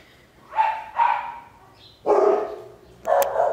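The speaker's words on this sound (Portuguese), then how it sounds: "Olha o Zeus latindo" A dog barks four times nearby, two quick barks followed by two longer, louder ones, with quiet gaps between.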